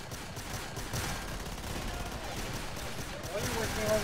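Dense gunfire in the video game Killing Floor 2 on the Biotics Lab map, a continuous rattling barrage of shots and blasts layered together, loud and busy throughout with no clear gaps.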